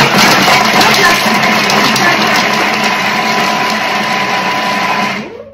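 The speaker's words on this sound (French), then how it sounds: "Et là, on mixe 5 secondes." A kitchen robot blends scallop-dish ingredients at speed for about five seconds, a loud continuous whirring motor roar that stays steady, then winds down abruptly at the end.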